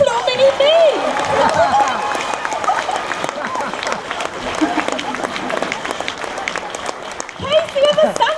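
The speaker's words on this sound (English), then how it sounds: "Let's have a round of applause for Casey." A fan expo audience breaks into loud, dense applause and cheering, steady for several seconds with voices mixed in.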